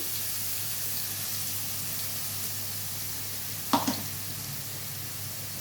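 Onions and curry leaves fry in hot oil with a faint steady hiss, broken near the end by a couple of quick clatters of stirring against the pan.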